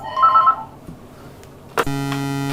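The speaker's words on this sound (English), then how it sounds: "Sorry about that, the phone rang." Telephone ringing in a room during play of the Crazy Cars game on a Sinclair ZX Spectrum emulator: a sudden loud electronic tone with steady buzzing harmonics begins late, after faint beeps and near silence, with no voices.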